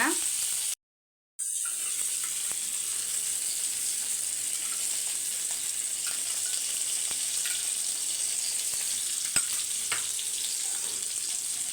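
Sankara fish frying on a hot dosa griddle turned down to low heat: a steady, dense sizzle runs throughout, with a brief silent gap near the start and occasional faint pops and clicks.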